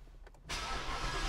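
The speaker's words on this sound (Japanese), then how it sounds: "はい、エンジンかけてみたいと思います。" A Ford Mustang GT V8 fires up from a push-button start, with a quiet interior lead-in and then a sudden loud, broadband engine roar that holds steady to the end.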